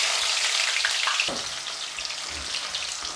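Onions sizzle and crackle steadily in a hot pan, with a soft stirring scrape partway through, close and moderately quiet, with no voices.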